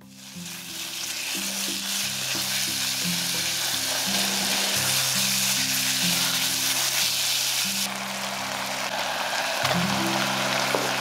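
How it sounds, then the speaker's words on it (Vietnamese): Continuous loud sizzling and crackling of minced pork stir-frying in a hot pot, steady throughout, with occasional stirring scrapes and no voices. "Kế đến mình cho thịt băm vào xào."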